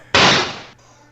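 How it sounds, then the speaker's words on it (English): Emulated gunshot effect from the Speech and Sound Cartridge, a single loud, abrupt noisy blast that holds for about half a second before cutting off, heard alone over a low steady hum. "Gunshot. First the explosion."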